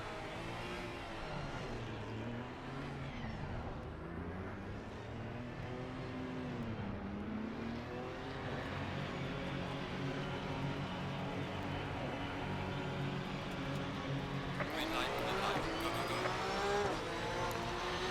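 Race cars in a racing video game roar through the first lap of a race, starting mid-pack, with engines revving and shifting continuously and loudly throughout, a brief surge of extra noise near the end.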